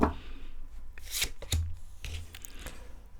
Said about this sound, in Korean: 흐름 카드를 먼저 뽑아봅니다